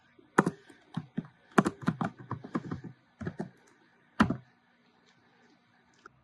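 Someone types an IF formula into an Excel marksheet on a computer keyboard, close and crisp, with bursts of clacking keystrokes, a few single key taps and short pauses in a quiet room.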